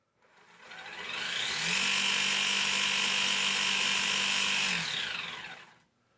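Electric motor of an Axial Basecamp RC crawler on a 2S battery running at slow speed, a close, steady whirring hum that ramps up, holds evenly for a few seconds, then winds down to silence.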